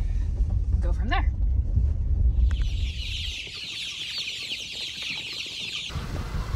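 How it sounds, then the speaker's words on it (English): Chickens cluck and chatter close by over a low rumbling background, with a rising squawk early on and a busy, bright stretch of clucking after. "So there's ducks and chickens in here."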